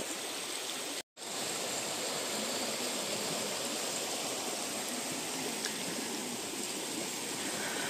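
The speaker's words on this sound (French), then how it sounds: "ce petit chemin là qui suit ce petit ruisseau." Small forest stream beside a footpath, a steady close rush and babble of flowing water that continues throughout, broken only by a brief dropout near the start.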